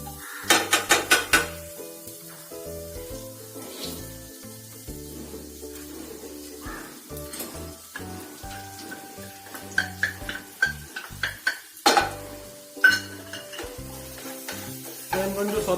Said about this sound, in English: I am going to saute it well unless it turns into a lightly golden brown in color.